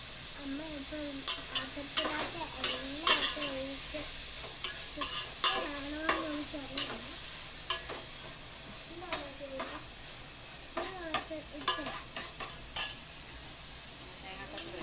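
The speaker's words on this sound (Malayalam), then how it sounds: "തേങ്ങക്കൊത്തും കൂടെ ഇട്ടിരുന്നുണ്ടേ വഴറ്റാൻ" Chicken pieces coated with turmeric and salt sauté in a pan with small coconut pieces, a constant sizzle overlaid by repeated scraping stirs and clinks of a spatula, with a voice murmuring briefly at times.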